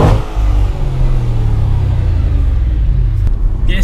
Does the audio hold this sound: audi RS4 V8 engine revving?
yes